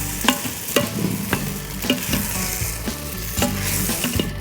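Rice sautés in an Instant Pot for a squash risotto, with a close, steady sizzle and a regular series of stirring scrapes against the pot roughly every half second; no talking.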